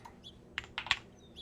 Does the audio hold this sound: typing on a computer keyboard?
yes